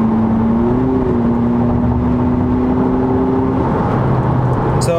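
A 2020 Honda Civic Si in sport mode with a muffler-delete exhaust makes a quick pull, a steady droning engine tone rising slightly and then holding before dropping off, fairly loud and up close.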